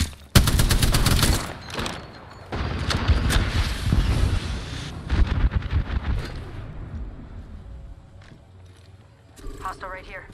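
Gunfire in the Apex Legends battle royale video game: loud, rapid bursts of shots crackle in several volleys with brief pauses, while a voice speaks over the shooting and the firing fades toward the end.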